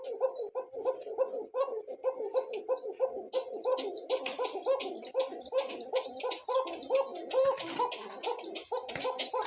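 Fancy pigeons at a breeder's farm coo in repeated rhythmic bursts, several birds overlapping close by, with higher calls mixed in.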